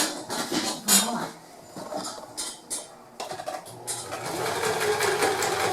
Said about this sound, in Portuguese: E vou passar uma costura de pé de máquina aqui